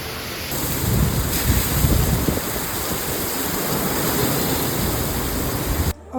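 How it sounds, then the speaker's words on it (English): Heavy rain pours down in a city centre in Vietnam, a dense, steady roar of water close by that holds loud and unbroken for several seconds before cutting off at the end. "unfortunately we got in a huge downpour"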